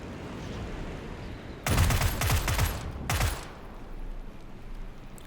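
Gunfire in the PUBG video game during an attack on a glider: a dense burst of rapid shots, then a second shorter volley after a brief gap, loud over a steady background hum.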